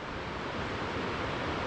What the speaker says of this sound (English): there is a river